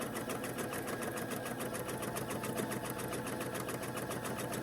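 A sewing machine stitches steadily along a marked line on a quilt block, a fast, even whirring hum that runs unbroken and close throughout.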